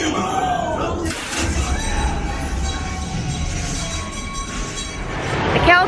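The Calico Mine Train ride at Knott's Berry Farm rumbles and rattles along its track, with a sharp clatter about a second in and squealing wheels near the end, while riders' voices mix into the din.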